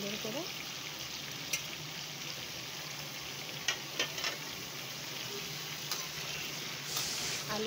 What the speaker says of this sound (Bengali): তো আমি এখানটা আলুগুলো ঠিক ওরকম অল্প একটু ফ্রাই করে নেব